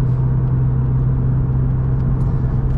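Steady, loud low engine drone fills a Cupra's cabin, enhanced through the speakers by Active Sound, a constant deep rumble with a faint whirring edge and no voices.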